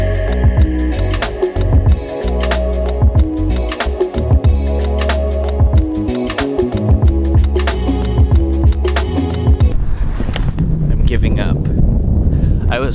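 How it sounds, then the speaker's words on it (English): Strong, cold wind beside a raised bridge buffets the microphone with a constant loud roar and rumble; gusts and rustling shift in the last few seconds. "it is so windy and so cold that I've given up"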